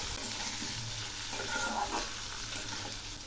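Potatoes sizzle and fry with dried chili powder and Kashmiri chili powder in a pan for a singi fish curry, a steady broadband hiss with soft stirring scrapes throughout, close and continuous, no talking.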